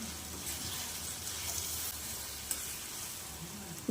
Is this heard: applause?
no